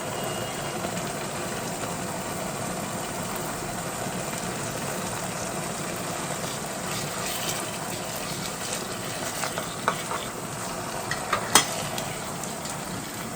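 Beef biryani ingredients, with coriander and mint leaves, stirred and frying in a pot: a low steady sizzle with scraping utensil sounds picking up toward the end, close and fairly quiet, no speech.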